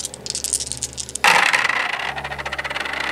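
Dice clatter and rattle across a Warhammer 40k tabletop during a game, a sharp burst of tumbling plastic cubes that settles into a scattered rattle, close and fairly loud with no talk.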